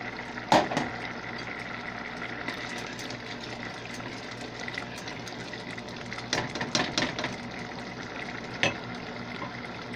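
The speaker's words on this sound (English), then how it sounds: "You hear how it's like bubbling slower and slower?" Liquid simmers in a pot on the stove with a quiet, steady bubbling. A few louder pops and gurgles stand out now and then.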